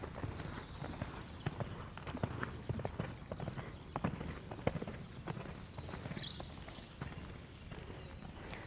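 Horse hooves thud in a steady, continuous rhythm during a riding lesson, moderately close and fairly quiet, with an occasional light rustle and no talk over them.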